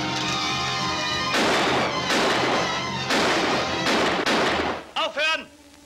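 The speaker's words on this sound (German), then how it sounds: "Hört mit der Knallerei auf, ihr bringt euch nur gegenseitig um." Gunshots in a western film shootout ring out in several loud, sharp bursts spaced about a second apart, each followed by a short echoing tail, ending with a brief tonal whine.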